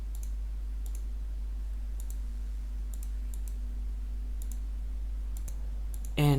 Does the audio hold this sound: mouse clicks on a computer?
yes